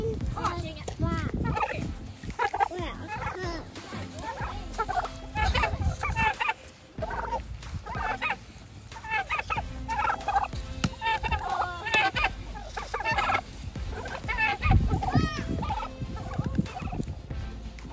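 Several turkeys gobble repeatedly outdoors, loud rattling bursts overlapping one another alongside a goat, with people talking now and then.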